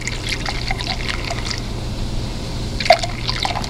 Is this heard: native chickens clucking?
no